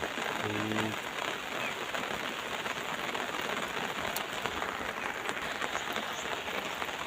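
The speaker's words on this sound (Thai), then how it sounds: "ฝนตกแล้ว ให้ดูตรงนี้ก่อนเรื่อยๆนะครับ" Steady morning rain falling on surfaces outdoors, a soft continuous patter with scattered drops, heard alone at low level.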